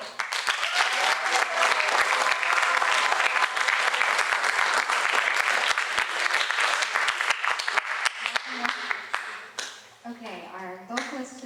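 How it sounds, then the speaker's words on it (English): Sustained audience applause on a stage after a music performance, dense clapping that carries loud and steady for about nine seconds before thinning out, with a voice speaking over the tail end. "Come on, give them a round of applause."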